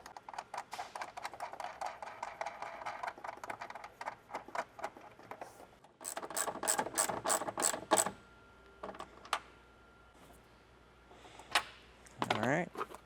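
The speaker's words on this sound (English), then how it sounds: "take the 2 nuts. We'll get those threaded on and snug down." Nuts being threaded and snugged down by hand on a Toyota 4Runner's Nomad tail light install: quick repeated ratcheting clicks in bursts, close and moderately loud, with a few scattered clinks and handling noises afterward.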